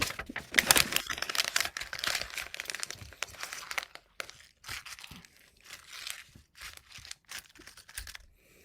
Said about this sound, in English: then crumple it up into a ball.